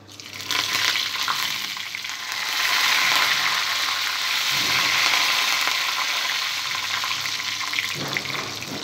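Tempering seeds, dried red chillies and curry leaves sizzle in hot oil in a pan on the stove, giving a loud, continuous crackling hiss close by with a few brief clicks.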